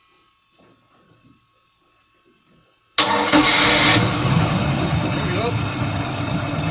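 Mercruiser boat engine cranked by hand with a failed solenoid: after a quiet stretch with a speaker, a sharp burst of cranking catches and the engine fires, settling into a loud, steady running rumble.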